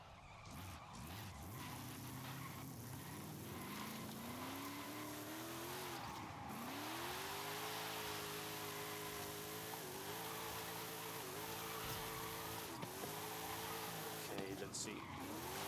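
A Nissan 370Z drift car in Forza Horizon 5 revs its engine and squeals its tires through long slides, the pitch rising and falling with each drift, while a player talks over the game sound.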